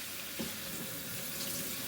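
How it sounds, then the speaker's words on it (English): Jasmine rice being washed in warm water for Mexican rice: running water splashes into a sink bowl in a steady, faint wash, with no talking. "what I do is that I wash it in some warm water"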